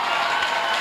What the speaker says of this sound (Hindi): आप लोगों की तालियां मेरे को गदगद कर दी